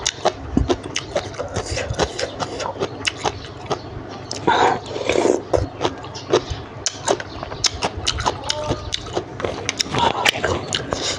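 Someone nearby crunches on raw, crisp water spinach, with repeated loud crisp bites and chewing at an uneven rhythm and no talking.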